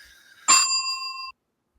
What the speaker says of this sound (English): You got a bell for that.